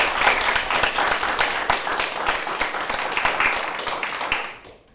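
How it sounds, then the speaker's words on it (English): Audience applause at a conference panel, a dense burst of clapping from a room of people that holds steady and then fades out at the end. "can we have a big round of applause for Sarah and Andrew?"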